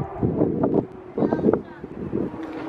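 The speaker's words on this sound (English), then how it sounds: "It's not cold, it's just a little windy." Outdoor wind gusts buffet the microphone with low, rumbling blasts, and voices are heard under the roar.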